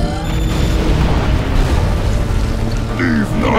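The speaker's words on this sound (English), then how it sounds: "PLA incendiary artillery" A PLA incendiary artillery barrage strikes in a C&C Generals Contra 009 battle of Flame General against Assault General, producing a loud, sustained low rumble of explosions that rolls on throughout with a few brighter crackles near the end.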